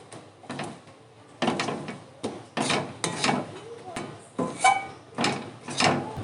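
Roasted sesame seeds are stirred in a pan for til naru: repeated rasping scrapes of a spoon against the pan come in a steady rhythm of about eight strokes, close and moderately quiet.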